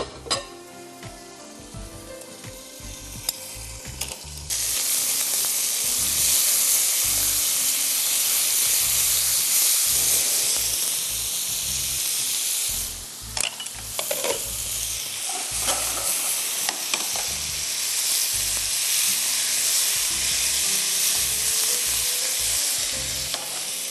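Chicken breast fillet fries in a covered pan with tarragon, giving a loud, continuous sizzle and hiss of hot oil and steam. Brief scraping stirs come and go over the frying noise.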